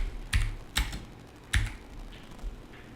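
Typing on a computer keyboard while writing a React search query. There are a few sharp, close key clacks at uneven intervals, with softer taps between them, in an otherwise quiet room.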